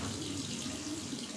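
Tap water pours steadily into a sink as product is rinsed off hands, a close, continuous rushing splash.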